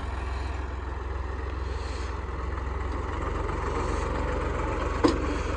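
A Massey Ferguson MF 260 tractor pulling a disc harrow runs at a steady, close engine drone with its tires slipping, a continuous even rumble with one brief knock near the end.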